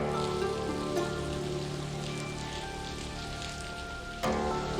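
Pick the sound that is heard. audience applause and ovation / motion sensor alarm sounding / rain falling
rain falling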